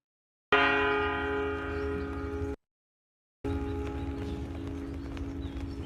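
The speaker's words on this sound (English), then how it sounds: "I think that's just what it sounds like when a human body bounces off the inside of a bell." A large bell struck from inside by a human body, giving two resonant metallic clangs with long humming rings, the first fading before a short silence, the second under rumbling noise.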